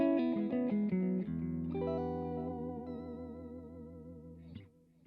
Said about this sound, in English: Great sounding delay there.